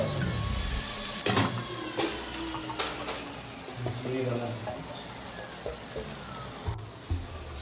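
Tomato masala fries in a pan for a broccoli, potato and pea curry, giving a soft crackling sizzle with scattered clinks and stirring knocks while a person talks over it.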